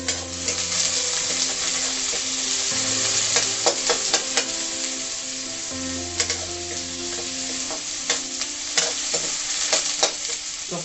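Chopped onions frying in oil in a kadhai for an Odia-style chicken curry, with a constant close sizzle broken by repeated scraping and clinking as a spoon stirs them around the pan.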